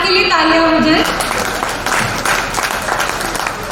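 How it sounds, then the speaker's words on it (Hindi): A studio audience at a Bollywood talk show breaks into applause, a dense wash of clapping that starts under a fading tone and carries on steadily with crowd noise throughout. "चलिए मैम के लिए तालियां हो जाए।"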